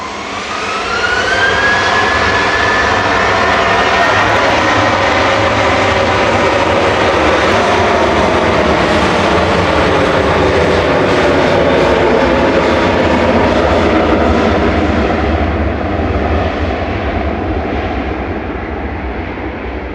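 A TUI passenger jet takes off at Manchester Airport, its engines a loud, steady roar with a rising whine that holds for the whole stretch and fades slightly near the end.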